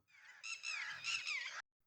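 A red-wattled lapwing gives a loud, sharp, ringing call up close, one unbroken burst of harsh repeated notes lasting about a second and a half, then silence, with no voices.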